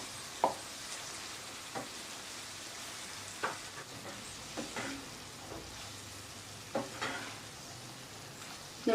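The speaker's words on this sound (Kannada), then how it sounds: "ನೋಡಿ ಮಸಾಲೆ ಸಾಸಲ್ಲೆಲ್ಲ ಚೆನ್ನಾಗಿ ರೈಸು ಫ್ರೈ ಆಗಿದೆ" Rice frying with vegetables and masala sauce in oil, a soft steady sizzle with occasional sharp scrapes and taps of a spoon stirring the pan, fairly quiet throughout.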